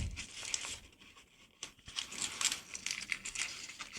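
Origami paper being unfolded and unwrapped, giving close, continuous crisp crinkling and rustling with small sharp crackles throughout, no speech.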